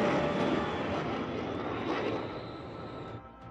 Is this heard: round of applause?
no